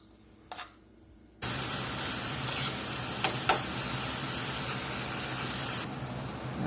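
One and a half pounds of ground beef hits a hot skillet and bursts into a loud, steady sizzle that holds for several seconds, with a few light scraping stirs, then eases slightly.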